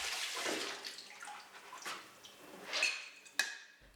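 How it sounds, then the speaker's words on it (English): Watermelon seeds are rinsed under running tap water, a close, splashy rush of water with shifting gurgles and a sharp clink near the end, no talking. "Simply rinse the seeds under water."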